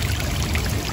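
Spring water gushing strongly into a fish pond beside a riverside hut, a dense, steady rushing and pouring wash heard up close with no voices.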